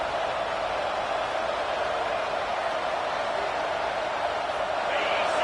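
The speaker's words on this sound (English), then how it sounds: "Listen to the crowd energy here in the early going." A steady roar from a football stadium crowd at a Missouri at Nebraska game, a broad, continuous wash of noise with no breaks.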